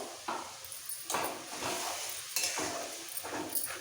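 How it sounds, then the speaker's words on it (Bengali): Spices being sautéed with a splash of water in a pan for a South Indian egg curry: soft steady sizzling with scraping and stirring strokes and light clinks of a utensil against the pan, close and continuous. "মশলার বাটিটাতে ধুয়ে একটু জল দিয়ে দিচ্ছি দিয়ে একসাথে কষাবো"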